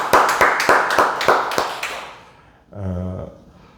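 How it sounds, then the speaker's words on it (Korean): A church congregation applauds together during a Wednesday worship service, giving about seven sharp, evenly spaced rounds of claps. A short spoken or sung phrase follows once the clapping dies away. "주님께 감사와 영광의 박수 올려드리겠습니다."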